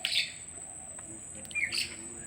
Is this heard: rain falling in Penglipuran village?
no